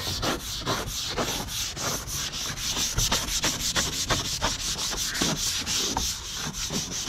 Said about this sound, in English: Now we're gonna scrub this sucker down, just like that.